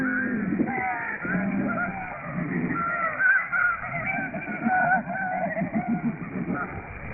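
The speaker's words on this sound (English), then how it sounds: "the sound of some lesser snow geese being disturbed by an Arctic fox on Wrangel Island" A flock of lesser snow geese on Wrangel Island honks in dense overlapping calls, stirred up by an Arctic fox, sounding thin and band-limited as if relayed over shortwave radio.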